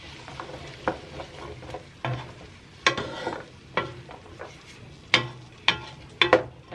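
Tomato paste being stirred into a pot of black bean and chickpea soup, a series of irregular scraping and clinking strokes, close and fairly quiet, with no talking.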